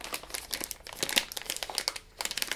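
Crinkly plastic of a resealable Flipz Unicornz snack bag being pulled open, a run of sharp irregular crackles and rustles close up, with no talking.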